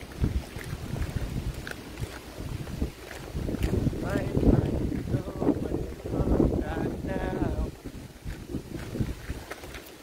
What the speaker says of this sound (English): Now it is getting windy now.